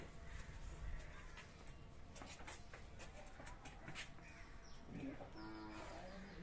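A cow at a rural cattle market lets out a faint, low moo near the end, heard over a quiet outdoor background murmur.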